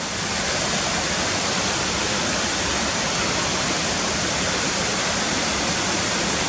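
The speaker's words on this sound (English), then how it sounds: "this is another typical waterfall surrounded by high cliffs" Cotter Force waterfall, set in a round gully surrounded by high cliffs, roars as a steady, dense, full-range rush of falling water, continuous and loud without any break.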